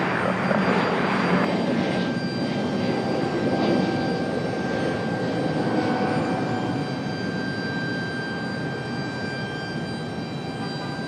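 Southwest flight 706 airliner coming in to land on runway 23 left at Raleigh-Durham International, a loud broad engine roar with a steady whine that slowly fades as it passes, heard alone without voices.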